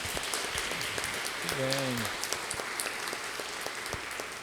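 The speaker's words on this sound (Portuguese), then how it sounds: "Uma salva de palmas." A church congregation applauds a couple's golden wedding anniversary at mass, a soft, steady patter of many hands heard from some distance, with a brief spoken voice rising over it partway through.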